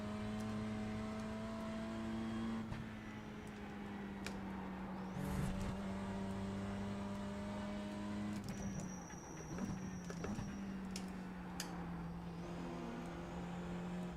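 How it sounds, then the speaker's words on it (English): A Porsche 718 GT4 in a racing video game circles the Mugello circuit, its engine droning steadily and shifting pitch through gear changes and braking, a continuous mid-level engine tone with no talking. "I really don't like the engine sound on this car."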